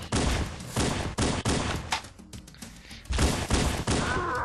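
Rapid bursts of gunfire ring out in the video game Halo, loud volleys broken by short pauses with a quieter gap in the middle before the shooting resumes.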